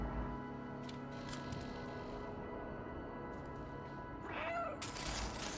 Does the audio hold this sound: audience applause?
no